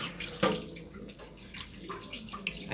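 Tap water runs steadily into a sink as raw chicken back is washed, a soft close splashing with small clattery bursts, fairly quiet under faint background sounds.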